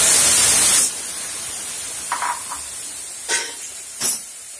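Pineapple hitting hot desi ghee in a kadhai: a loud burst of hissing sizzle for almost a second, then quiet with a few faint clinks and stirring sounds.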